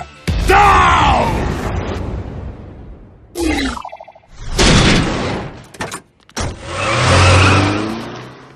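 A flying car in a Star vs. the Forces of Evil cartoon roars and revs in loud bursts with whooshing passes and booms, broken by short silences, while voices yell over the engine.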